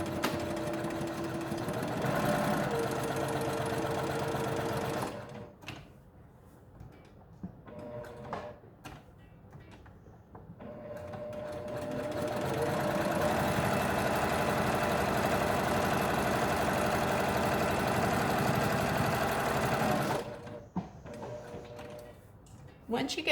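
Sewing machine stitching a quarter-inch seam around a fabric face mask, a steady whirring run near the start and another in the middle, broken by pauses with speech.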